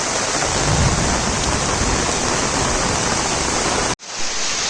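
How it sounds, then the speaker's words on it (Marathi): Heavy monsoon downpour in Konkan pours in a dense, loud, unbroken hiss, cutting off abruptly near the end before resuming. "पाऊस बघा मुसळधार चालू झालो"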